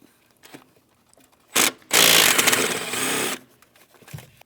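A power tool removes the 8mm mounting bolts from the upper intake plenum of a 2015-2025 Ford Transit 250 3.7L V6, whirring in one loud burst of about two seconds after a short blip, with quiet clicks before and after.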